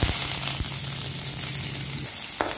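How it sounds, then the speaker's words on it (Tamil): Onions and curry leaves sizzling in a hot mustard seed and chili tempering, a close, steady crackling fry with a brief stir near the end. "இத வந்து இந்த வெங்காயம் இந்த கருவேப்பிலை எல்லாம் நம்ம இதல போட்டுறோம்"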